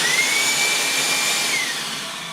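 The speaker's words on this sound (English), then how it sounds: "We all know that vacuums are loud, and this model is no different, with a noise measurement of 89 decibels at 10 feet." A Ridgid 16-gallon 5.0 HP wet/dry vacuum runs continuously, a loud, harsh airy roar with a steady high whine that wavers slightly, heard alone and close.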